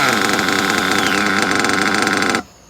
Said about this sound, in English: I'm gonna put the stock back on and just let it idle for a minute